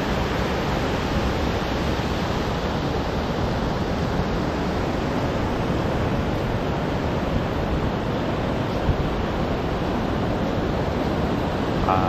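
Steady broadband roar of sea waves washing onto Da Nang beach in Vietnam, with mountains nearby, continuous and fairly loud throughout with some wind, no distinct individual wave breaks and no talking.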